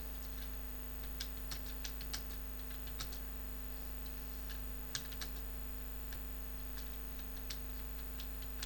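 A sentence being typed on a computer keyboard: sparse, irregular light key clicks at close range, fairly quiet over a steady electrical hum.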